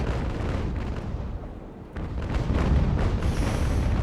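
Sailing ship cannon fire in Ultimate Admiral: Age of Sail rolls as a dense, continuous bombardment of booms and rumbling blasts, loud and steady throughout, with no talking.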